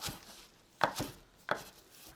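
Kitchen knife chopping thin spring onions into 5 cm pieces on a cutting board for a quick spring cabbage kimchi salad, three or four close, crisp chops spaced unevenly and fairly quiet, with no talking.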